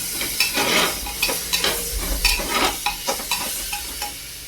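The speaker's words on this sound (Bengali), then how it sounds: "লবণ দিয়ে এখন একটু ভালো করে নাড়াচাড়া করে নেব।" Vegetable khichuri is stirred in a pan after salt goes in: a steady run of scraping spoon strokes over a soft, continuous sizzle, close and moderately loud, with no talking.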